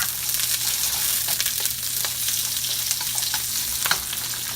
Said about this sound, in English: we're gonna saute the onions and the garlic and the ginger paste for a little while